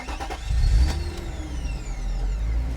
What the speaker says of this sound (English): And let's start it up.